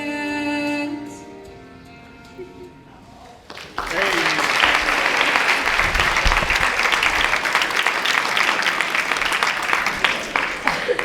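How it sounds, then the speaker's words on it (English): A soft sung ending gives way to a sudden burst of audience applause at an honor ceremony, which holds at full, even strength for the remaining seven seconds or so. "Let's give her another round of applause."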